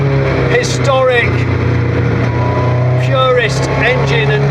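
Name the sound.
MST Mk1 Escort car engine while driving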